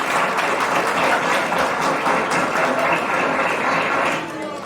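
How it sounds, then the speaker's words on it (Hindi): An audience at a school play for Engineer's Day claps steadily in a dense, continuous wash of applause that tapers off slightly at the end. "तो बजाओ ताली।"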